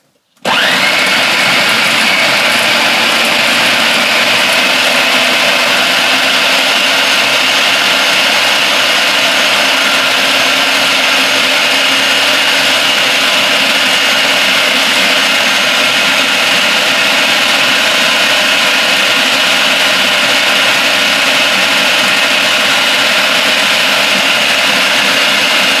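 A stand mixer whirs steadily and loudly for the full length while mixing peanut butter ball dough with cinnamon and vanilla, a continuous motor drone with no pauses.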